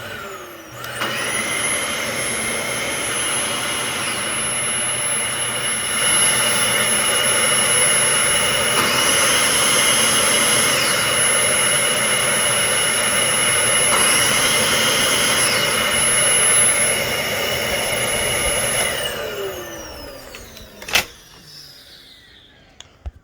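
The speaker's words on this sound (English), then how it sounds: "this particular machine does have a little bit of a high-pitched whine to it" Dyson Ball DC15 upright vacuum cleaner powering up, roaring steadily and loudly with a piercing high-pitched whine for about twenty seconds before spinning down into clicks and quiet.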